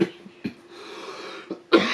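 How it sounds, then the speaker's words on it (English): A man coughs several times close to the microphone, short harsh bursts separated by quiet pauses, with a stronger cough at the end. "I'm coughing a lot"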